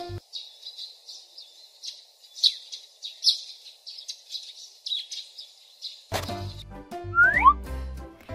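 Macaws calling in short, repeated bright squawks and chirps at a steady rhythm, fairly close, followed near the end by a burst of playful music with rising whistle-like sweeps.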